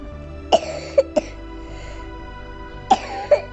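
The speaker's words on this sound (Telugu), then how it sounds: "చాలా చాలా దగ్గుతున్నారు" A sick child coughs in a home setting: two clusters of sharp, close coughs, three in quick succession, then a pause, then two more, over a quiet background hum.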